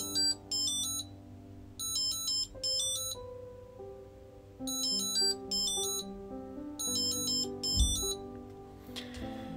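An Eufy SmartLink Track tracker sounds its ringing alert as bursts of rapid high-pitched chirping beeps in repeated clusters, fairly faint over softer sustained tones underneath.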